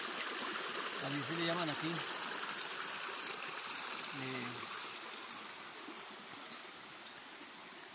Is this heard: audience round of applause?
no